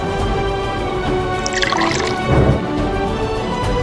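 Water is poured into a glass, a short burst of trickling and filling noise over a steady background hum.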